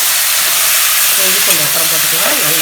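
Ingredients sautéing in a pan for duck gravy, a loud continuous sizzle and hiss with a voice speaking over it in the second half.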